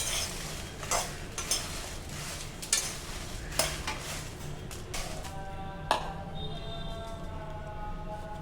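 Dry red chillies are fried in a pan while a spoon stirs and scrapes, with a soft sizzle and clinks of utensils against the pan.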